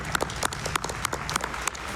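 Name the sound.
audience applause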